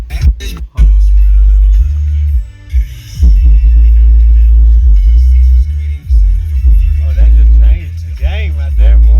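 Car stereo subwoofers in a 363 stroker Mustang pound out deep, loud, throbbing bass inside the car, with voices talking over the thumping low end.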